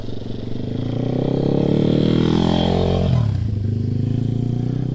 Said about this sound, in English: that was a dirt bike right there